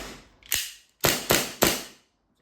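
Four sharp gas-powered shots from a Novritsch SSP2 airsoft pistol, brand new: one snappy crack, a pause, then three quick cracks in an uneven rhythm, close and loud with a short metallic ring, no talking.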